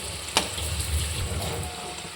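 Potatoes fry in hot oil with a steady, soft crackling sizzle, broken by one sharp clink near the start, with no voices heard.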